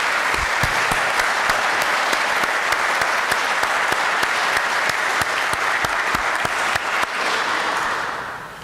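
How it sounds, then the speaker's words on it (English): Audience applause for veterans at a university ROTC commissioning ceremony: sustained, dense clapping from a large crowd in a hall, even and loud for several seconds before tapering off. "I would ask for another round of applause for our veterans"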